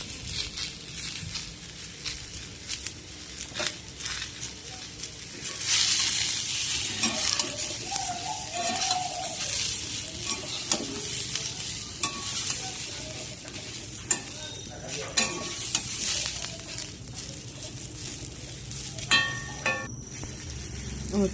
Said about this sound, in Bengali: তেলটা গরম হলে আমি পটলগুলোকে নুন হলুদ দিয়ে ভালো করে ভেজে তুলে রাখবো